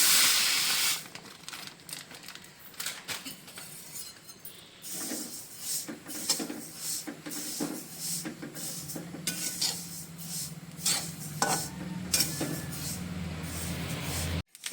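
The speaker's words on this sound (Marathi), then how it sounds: "कडे गरम झाली आता मी तीळ भाजून घेते" Sesame seeds dry-roasting in a hot kadai for a Maharashtrian masala chutney, a soft steady crackle and hiss with intermittent scraping and stirring of the pan throughout.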